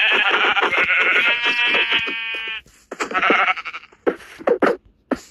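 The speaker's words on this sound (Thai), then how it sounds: "มีแกะ" Sheep bleat in the video game Minecraft, one long wavering bleat followed by several shorter ones, loud and close with no voices over them.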